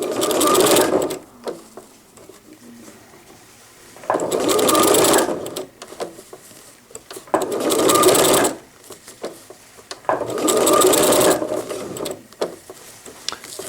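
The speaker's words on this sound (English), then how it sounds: "I'm only sewing maybe 4 or 5 stitches at a time before I gotta rotate again" A sewing machine stitches a cotton diaper with PUL at the legs in four short, loud, close bursts of rapid whirring, each separated by pauses for turning the fabric.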